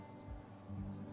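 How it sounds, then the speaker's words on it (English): A Casio AE-1000 digital watch sounds its alarm check in two short bursts of rapid high-pitched beeping, one at the start and one at the end, faint and close, with no talking. "Easy, just press and hold the search button, and it will give a beeping sound like this."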